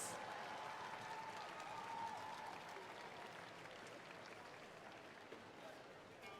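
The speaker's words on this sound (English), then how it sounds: "a really, really big round of applause for our Blue Alliance Theory 6, Blizzard, and Ching Robotics." Crowd applause and cheering at a FIRST robotics district competition in Ontario for the Blue Alliance teams, a steady dense wash of sound held at an even level from start to finish.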